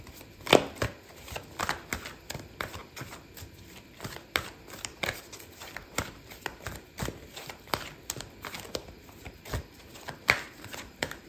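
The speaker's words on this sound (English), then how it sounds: "I'm going to pull out a card for your advice" Tarot cards are shuffled by hand in a quick, uneven run of crisp riffling and slapping bursts, close and moderately loud, with no talk over them.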